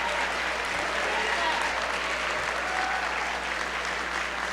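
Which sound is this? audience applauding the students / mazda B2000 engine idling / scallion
audience applauding the students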